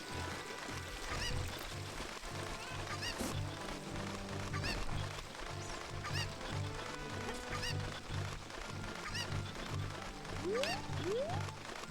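Cuccos cluck and squawk in The Legend of Zelda: Ocarina of Time, with repeated bird calls over a rhythmic game music loop and steady background sound.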